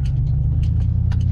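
A truck rolls over the bumpiest of rough roads, giving a loud, continuous low cab rumble with small rattles and jolts on top, heard from inside.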